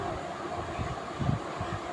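Express train heading from Bardhaman toward Rampurhat, heard from inside the carriage as a steady low rumble with rhythmic wheel thumps under a constant broadband hiss.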